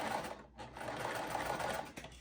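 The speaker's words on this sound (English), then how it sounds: "I usually hold my threads when I start sewing so it does not get sucked down underneath" A sewing machine runs steadily while stitching quilt fabric, a close, continuous mechanical whir with a brief dip partway through, then carrying on.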